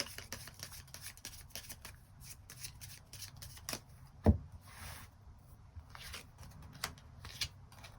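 Tarot cards being shuffled by hand, a soft run of papery riffles and rubs close by with one sharper snap midway, no talking.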